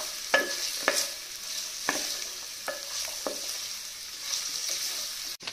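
Carrots sizzle in a pan for vegetable pulao while a utensil stirs them. Several scraping knocks stand out over a steady, soft frying hiss, and no one speaks.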